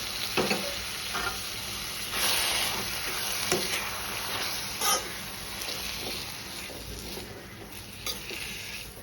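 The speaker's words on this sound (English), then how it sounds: "We can now add the tomatoes and fry it for another few minutes until the tomatoes become soft and mushy." Tomatoes frying in a pan for Goan sukke teesrio, giving a steady sizzle while occasional spoon scrapes and light clinks against the pan break through at close range, with no voices.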